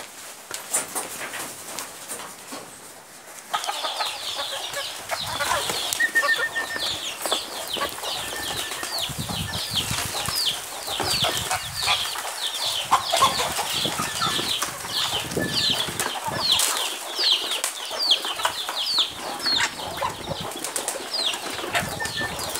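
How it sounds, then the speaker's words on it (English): Backyard chickens being fed mixed feed, with a steady busy flurry of clucks, chirps and wingbeats close by throughout, no talking. "Now join me as I go to feed my birds."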